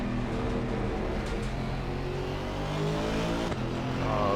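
An Aston Martin GT4 race car engine in the Assetto Corsa Competizione racing game at Kyalami drones loudly and continuously, revving with shifting pitch and a brief dip mid-run before rising again.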